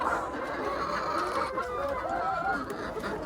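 Chickens on a farm cluck continuously from close by, several birds overlapping in a busy, steady chorus.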